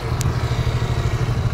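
A motorcycle engine idles close by with a steady low throbbing pulse while the bike is parked, and one brief light clatter comes early.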